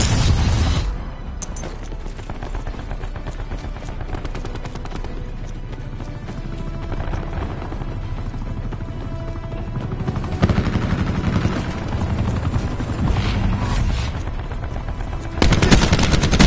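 Enemy attack helicopter overhead in a PS4 shooter game, with sustained rotor drone and bursts of heavy machine-gun fire and booms layered continuously throughout, loud and close.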